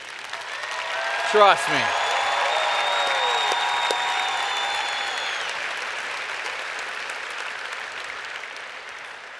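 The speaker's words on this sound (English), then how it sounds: "You guys should applaud yourselves for that." Audience applause filling a large hall at the National FFA Convention, a broad steady wash that follows a spoken line and slowly fades, with the speaker's voice and tonal sounds over it.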